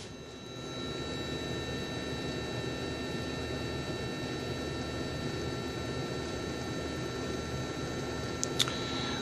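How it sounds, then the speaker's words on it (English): Throttle actuator from a Mercedes E320 wagon, energized on a bench, giving off a steady, faint tonal hum with a metallic buzz that holds unchanged throughout, ending in a couple of brief clicks. "So as you can hear the unit humming."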